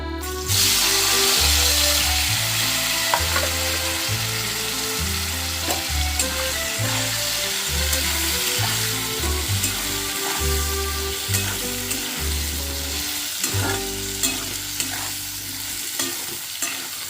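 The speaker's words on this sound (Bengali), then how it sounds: "এবারে আমি এর মধ্যে দিয়ে দিচ্ছি কেটে রাখা বেগুনগুলো" Cut eggplant pieces sizzle and fry in a pan for an egg and eggplant dish, a loud, constant crackling with repeated scraping stirs throughout and no talking.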